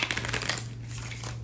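A deck of reading cards is shuffled close by, giving a soft, continuous papery riffle that lasts throughout.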